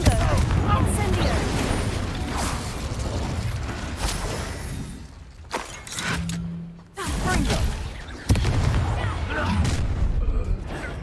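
Fiery spell blasts from Confringo and Incendio cast in Hogwarts Legacy, a run of loud booming bursts with crackling impacts, broken by a brief lull before the blasts resume, heard alongside in-game voices.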